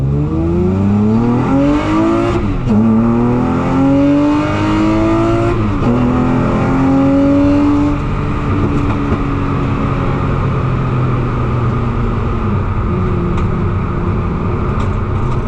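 An EZ30R flat-six swapped into a Subaru Impreza revs hard while driving, loud and close, with the engine note climbing through repeated rising pulls and gear changes before settling into a steadier drone.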